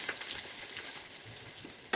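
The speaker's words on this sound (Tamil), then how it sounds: "கடுகு, சீரகம்லாம் நல்லா பொரிஞ்சதுக்கு அடுத்து" Mustard seeds and cumin splutter and crackle in hot oil in a home kitchen, a steady dense sizzle with scattered pops that runs continuously and close throughout, with no speech.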